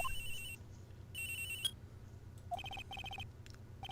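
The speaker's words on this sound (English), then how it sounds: "Around 10:30, I received a call on my cell phone." A cell phone rings in the Phoenix Wright: Trials and Tribulations video game, its electronic ringtone chiming in repeated bright bursts with short gaps, loud and close over a low background hum.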